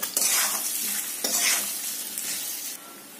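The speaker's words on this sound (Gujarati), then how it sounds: "આ બધો જ મસાલો પાત્રામાં સરસ રીતે કોટ થઈ જાય તેવી રીતે મિક્સ કરી દઈશું" Patra rolls tossed with spice masala in a pan, close scraping and stirring over a gentle sizzle, loudest in two bursts, then tapering, with no voices.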